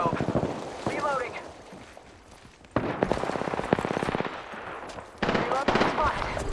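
Rapid automatic gunfire in a first-person shooter, with close, loud rattling bursts broken by short pauses and heavier volleys toward the end, while a voice talks over the shooting.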